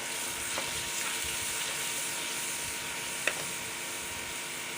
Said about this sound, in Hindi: ये टमाटर 3-4 हैं बारीक कटी हुई, ये शामिल कर रही हूँ।